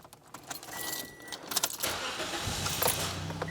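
A car with a newly installed clutch has its keys jangle in the ignition before the engine cranks and catches, then settles into a close, steady running sound.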